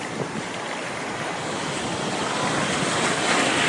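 Sea waves in Istanbul during a surfing outing roll and wash in a steady, close surf roar with buffeting wind noise on the microphone, building slightly toward the end.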